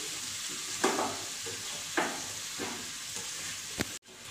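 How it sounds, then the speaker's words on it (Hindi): Bottle gourd (lauki) pieces are stirred as they fry in a pan, with a soft continuous sizzle and a few distinct scraping strokes of a spoon, ending in a brief clunk. "तो लौकी मैंने इसमें पूरी ऐड कर दी है। इसको मैं अच्छे से चला लेती हूँ।"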